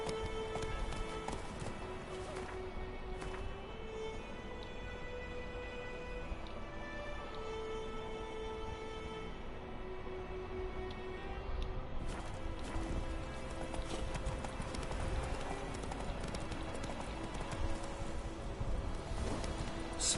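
Hooves of Geralt's horse Roach clip-clop at a steady gallop in The Witcher 3: Wild Hunt, a continuous rhythmic drumming mixed with game music and ambience, with a brief whinny.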